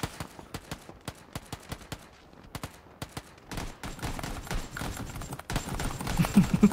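PUBG gunfire rings out as sharp, evenly spaced single shots, then denser bursts that build into louder rapid fire mixed with heavier background noise.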